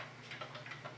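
A Gabriel alarm clock ticking quietly and steadily at close range, a faint regular tick with no other sounds around it.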